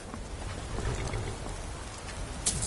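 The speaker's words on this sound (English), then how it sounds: "This rain will stop eventually." Steady rain falls in Skyrim, a continuous hiss of drops and low rumbling wash, even and moderately loud with a faint higher patter near the end.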